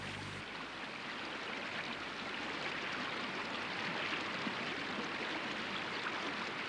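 Flowing water of the Ganges river makes a steady, full rushing wash that stays even and close throughout, with no voices over it.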